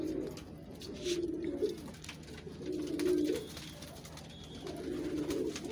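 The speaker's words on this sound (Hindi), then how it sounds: "तो आज ये क्या कबूतर है, किस चीज़ में है? सफ़ेद कबूतर है जी" A white female pigeon coos in soft, repeated rolling phrases, three low bursts spaced a second or so apart, fairly close against a quiet background with no talking.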